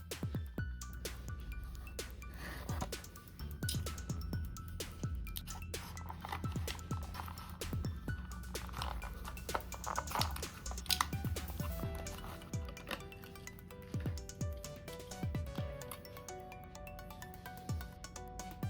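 A Hot Wheels Premium Nissan 240SX S14 die-cast car is worked out of its plastic blister package, giving close crinkling, tapping and clicking of plastic and cardboard at an irregular pace.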